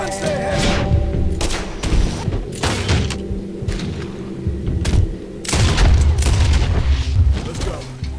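Gunfire in Red Dead Redemption 2 in a western shootout: loud, heavy booming shots and thuds in a steady barrage across the whole stretch, with game sounds layered in.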